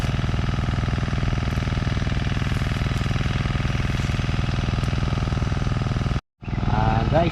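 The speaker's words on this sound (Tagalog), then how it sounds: "pasensya na po kayo sa aming makina, maingay po" A noisy irrigation pump engine in a farm field of string beans runs at a loud, steady idle-like chug, cutting out briefly near the end before resuming.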